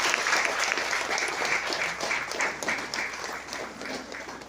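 An audience at a Rajnagar program bursts into loud, sustained applause, dense clapping continuing steadily throughout with no speech over it.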